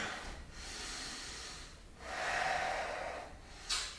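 Breathing during a yoga cobra pose in a beginner's sun salutation, with soft, close breaths heard as a slow exhale, a pause, then a longer inhale and a short sniff at the end, with no talking.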